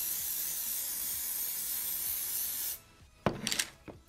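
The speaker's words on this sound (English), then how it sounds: "I spray the hairspray in my hand" A continuous hiss of DevaCurl flexible hold hairspray sprayed into a hand lasts nearly three seconds close by, then cuts off, followed by a few soft rubbing and handling noises.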